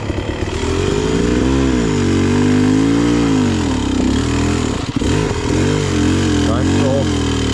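A Beta XTrainer dirt bike engine runs loud and close with a continuous throbbing note, the revs rising and dipping as the clutch is worked, while a rider talks over it.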